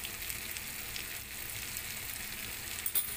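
Red chili and cumin powder sauté in hot oil for rajma masala, a kidney bean curry, giving a steady, dense hiss of sizzling that holds evenly throughout with a faint stirring scrape near the end and no talking.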